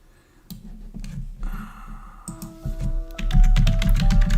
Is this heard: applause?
no